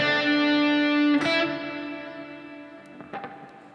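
Electric guitar with effects plays a short, staccato riff: a sustained note is cut off sharply, then quick plucked notes ring out under reverb and fade.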